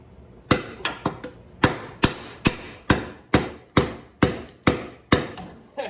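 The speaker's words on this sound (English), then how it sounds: "And you keep whacking it." Hammer blows whacking a stuck, rusty rear lawn mower wheel to drive it off its axle: about a dozen sharp metallic strikes in a steady, close rhythm with no voices.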